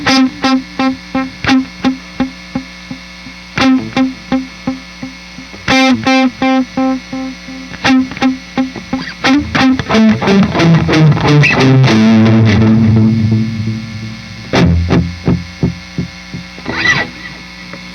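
Electric guitar run through delay and distortion pedals, with a pulsing rhythmic riff that swells into a dense, sliding distorted wash and then trails off into echoing repeats, loud and without talking.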